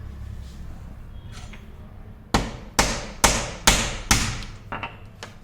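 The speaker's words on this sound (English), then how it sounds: "I've broken the nutmeg." Whole nutmeg is pounded to break it for a homemade Goan biryani masala, five loud, close thuds in a steady rhythm followed by a couple of lighter taps.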